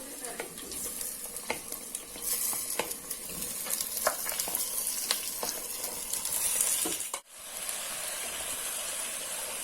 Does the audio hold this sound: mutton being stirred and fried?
yes